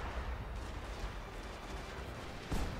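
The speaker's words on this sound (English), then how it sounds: "Cannons are firing" Cannons fire shrapnel in a Total War: Shogun 2 Fall of the Samurai battle, dull booming blasts rolling over dense continuous battle noise, with a sharper report near the end.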